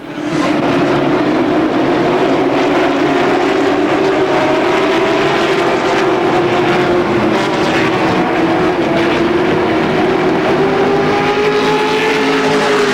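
Race cars roar around the Motordrome Speedway oval in a season-finale race, a loud, continuous engine drone with shifting pitch as several cars run side by side into a turn, steady and close throughout.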